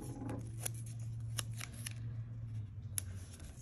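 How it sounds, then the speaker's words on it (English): Masking tape tearing off the roll for a negative-space word painting, a brief close rip followed by a run of quieter crisp pulls and tears in a quiet room. "I'm gonna rip off another piece, and I can kind of measure it while it's on the roll"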